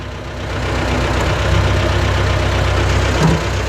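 A T-40AM tractor fitted with a front loader idles steadily nearby with a low, even chugging rumble and no voices.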